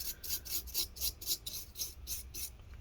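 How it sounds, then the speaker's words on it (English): A toothbrush scrubs dust off the internal parts of an MSI GS75 Stealth laptop, making close, steady raspy strokes that repeat in an even rhythm about every quarter second, with no voices. "you kind of just brush it, and then after that you can blow the thing out"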